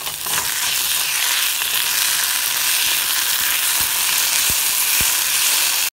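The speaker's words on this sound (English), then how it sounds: "I'm going to add in 1 tablespoon of ginger garlic paste." Ginger garlic paste fries with caramelized onions for a coconut gravy pork rib curry, a loud, dense, constant sizzle with a few soft knocks near the end.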